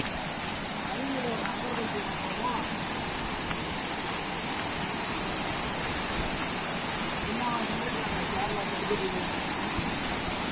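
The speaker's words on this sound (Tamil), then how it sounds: "உங்களுக்கு அருவியோட சவுண்ட் கேட்குதுன்னு நினைக்கிறேன்" A loud, continuous roar of a mountain waterfall fills the scene, with faint voices talking now and then beneath it.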